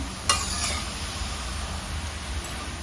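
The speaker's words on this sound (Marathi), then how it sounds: "हे व्यवस्थित हलवत राहायचं." Indian gooseberries (amla) cooking with jaggery and ghee in a pan, stirred with a faint scraping and a soft steady simmer, with one sharp clink of the spoon near the start.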